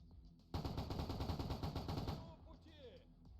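Rapid automatic gunfire from a video game, a loud sustained burst of shots for nearly two seconds that then stops, followed by quieter game sounds.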